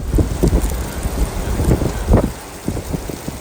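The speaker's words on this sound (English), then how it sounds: "I'm just trying to get y'all to capture those leaves and that wind." Strong gusting wind during a severe North Texas thunderstorm, loud rumbling buffeting against the microphone with uneven surges and roars throughout.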